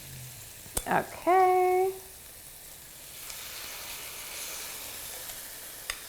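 Honey sriracha salmon fillets sizzle steadily in a hot pan, a soft continuous frying hiss. A brief spoken word and a short tonal beep come early, then the sizzle carries on alone.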